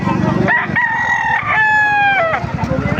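Roosters crow at a Calumpit livestock market, with several long crows close together over constant clucking and loud crowd chatter.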